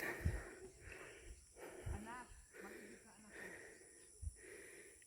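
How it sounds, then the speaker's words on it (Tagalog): Heavy panting and wheezy breaths from people climbing a steep uphill road, rhythmic and close, with short talk and footstep thumps mixed in. "kahit nga sila ay sanay narito ay hinihingal din yan sila"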